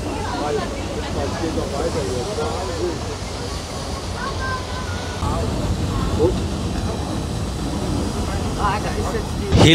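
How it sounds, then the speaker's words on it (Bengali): A train engine runs steadily on the return journey as a continuous low rumble with a faint airy hiss, heard under ongoing speech with a louder swell at the very end. "এখন যেহেতু ট্রেনটা রিটার্ন করছে তো এখানে আপনার সেরকম পাওয়ারের দরকার নেই, তো তার জন্য আপনার ইঞ্জিন ভালোইভাবে চলছে"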